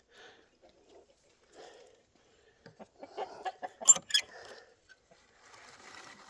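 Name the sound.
hens clucking in the hen house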